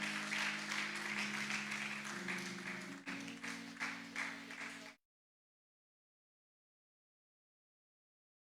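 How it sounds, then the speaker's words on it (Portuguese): Church congregation applauding, standing after being invited to, a dense steady round of clapping over sustained keyboard chords that cuts off abruptly after about five seconds, followed by silence. "Você pode aplaudir ao Senhor."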